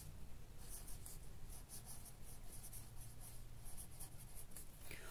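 Pen or pencil writing during a geography lesson, a faint steady scratching with repeated short strokes against a quiet hissy room background, no voices.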